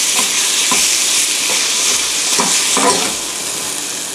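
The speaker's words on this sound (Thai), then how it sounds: "ทีนี้เราก็ใส่ไก่ลงไป" Chicken fries with onion in a pan for oyakodon with a strong, steady sizzle, broken by occasional stirring scrapes. The sizzle eases slightly near the end.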